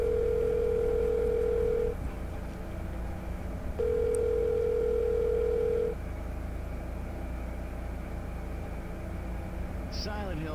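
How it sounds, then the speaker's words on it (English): Telephone tones from the video game Silent Hill Shattered Memories: a steady electronic tone sounds for about two seconds, pauses, then repeats for another two seconds over a low background hum, with a faint click near the end. "Might help if I actually dial the correct number."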